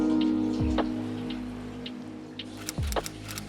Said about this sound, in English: grab a colander and dump your meat out. And then we're going to quickly rinse it.